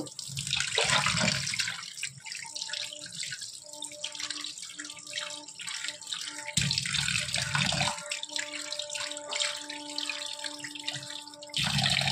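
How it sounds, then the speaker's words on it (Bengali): Tap water runs into a container for washing fresh fish at home, a steady rushing stream with a few louder bursts of gushing flow and faint tonal hums behind it, no talking. "দেখো, জল ভরে নিয়ে আমি এখানটায় ভরে নিয়ে সব মাছগুলো ধুয়ে নেব।"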